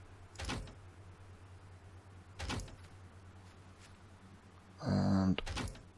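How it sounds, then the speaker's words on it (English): Doors in the Planet Nomads game thunk shut several times, each a short knock separated by pauses, followed by a brief mechanical whir and one more thud, fairly quiet. "door is closed"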